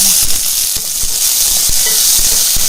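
Tomatoes and onions sautéing in a pan for vegetable kurma give a steady, close sizzle, with soft stirring knocks scattered through it.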